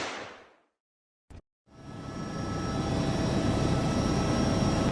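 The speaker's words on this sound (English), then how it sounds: "We are flying low in the air by helicopter right now to keep a close eye on the situation" A helicopter flies low overhead, its engine and rotor noise building into a steady, loud roar after a brief dropout near the start, with no talking.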